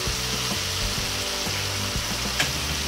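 Soy sauce sizzling in a hot pan with softened tomatoes while cooking adobong kangkong, a steady loud frying hiss throughout with faint clinks from stirring.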